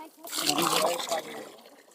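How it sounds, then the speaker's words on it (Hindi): Buttermilk poured into a compost mixture on a farm, a steady trickling splash lasting about a second amid background voices. "ये देखिए हमने और मही डाले।"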